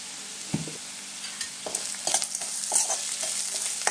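Rice sautéed with turmeric in a pan for mango rice, a steady sizzle broken by scraping and clinking stir strokes that come in irregular bursts, close by.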